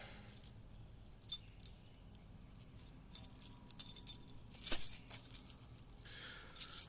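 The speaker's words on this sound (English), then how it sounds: "get my keys out, if I have the right keychain on me" A big jailer's ring of keys jangles and clinks in bursts close by, with one louder shake near the end, while a 1980s Camaro with a functional cowl hood is being opened up.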